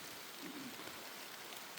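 Steady rain falls outdoors while people dig up cassava, a continuous broadband patter with no voices in this stretch.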